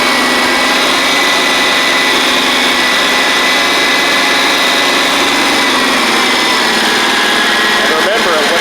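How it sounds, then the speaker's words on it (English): A liquid-cooled Kawasaki engine on a John Deere 345 mower, a unit with spark and vapor lock trouble, runs steadily at high, whining revs throughout, loud and continuous with a slight shift in tone near the end. "let me give it a little throttle."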